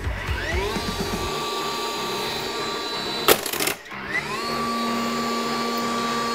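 A DeWALT XR cordless concrete nailer whirs steadily as its fan spools up, with a sharp mechanical snap of the tool firing midway, then the fan whine rising again and holding.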